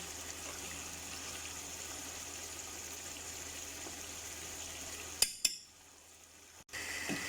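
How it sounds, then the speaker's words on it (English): Chicken pulao mixture being stirred in a pan over full heat, a steady sizzling hiss with faint scraping that runs continuously, then breaks off with a couple of sharp knocks near the end. "Need to stir the mixture well."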